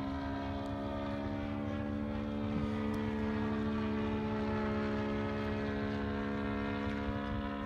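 A Dynaflite Super Cub RC plane with a 154 stroker engine, its steady, loud buzzing drone holding an even pitch throughout, close by with no talk.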